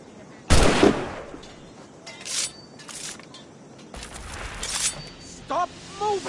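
Gunshots ring out in Assassin's Creed Rogue, one sharp loud crack followed by scattered bursts of fire, with people's voices calling out between them.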